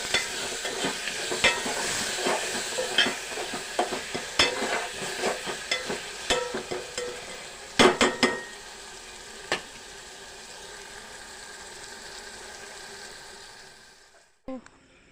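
Okra frying in a pan with tomato, onion, salt, turmeric and chilli powder, a steady close sizzle broken by repeated sharp scraping and stirring clatters, then fading near the end.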